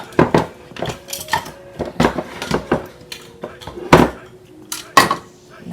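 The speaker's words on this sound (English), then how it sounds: "And I just want to move it around, stir it around." A spoon stirs candied yams in a pot, knocking and scraping against the metal in irregular clanks and clinks, close and fairly loud, with soft talking in the background.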